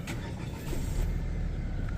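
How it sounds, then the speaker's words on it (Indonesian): A Jetour Dashing turbo SUV's engine catches from a push-button start, settling into a steady low, close rumble that swells slightly partway through before holding even. "untuk nyalain mesinnya tinggal kita injek rem dan tekan engine start button di sebelah kiri sini"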